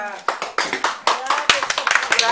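Audience clapping at a Greek Karagiozis shadow puppet performance, a run of sharp, close hand claps that quickly grows denser and louder, heard over a bed of background chatter.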